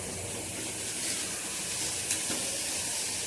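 Spice paste for vada pav sautés in a pan over a gas flame, a continuous close hissing sizzle broken by a brief stir partway through.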